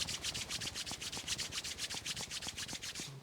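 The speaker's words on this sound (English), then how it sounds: "Rubbing the palms together until they feel warm." Palms rubbing together briskly until warm, close and soft: a rapid, even back-and-forth swishing of skin on skin, about six strokes per second, with no talk.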